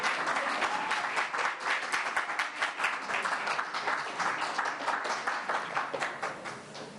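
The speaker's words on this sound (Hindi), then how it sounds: "तो तालियों को क्या होगा?" An audience at a Hindi poetry evening claps steadily, a dense, even rattle of many hands that fades slightly toward the end, with no speech over it.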